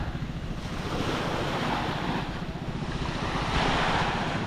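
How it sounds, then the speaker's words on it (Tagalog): Steady sea breeze and rolling surf at Panglao beach in Bohol, a continuous broadband wash of waves with wind buffeting the microphone, close and fairly loud throughout with no voices. "Magpalamig tayo ng simoy ng hangin."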